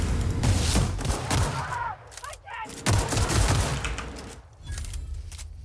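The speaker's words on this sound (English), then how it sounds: "Oh no, I'm being shot at." Rapid gunfire bursts crackle almost continuously during a firefight in The Outer Worlds, with a brief lull partway through, and a voice speaks under the shooting.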